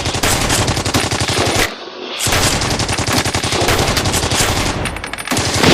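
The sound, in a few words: machine gun fire sound effect in stop motion film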